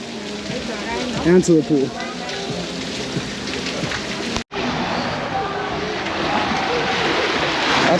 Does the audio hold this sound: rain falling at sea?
yes